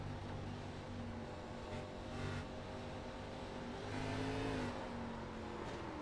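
Onboard engine of the number 14 race car driven by Michael Bennett, a distant-sounding steady engine drone that swells on acceleration and dips between shifts, fairly faint with no talking.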